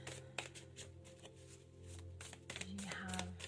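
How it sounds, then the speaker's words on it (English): A tarot deck is shuffled close up and quietly, with soft irregular riffles and card flicks in bursts over about three seconds, and faint voice-like sound underneath. "I'm going to shuffle and get some cards first of all."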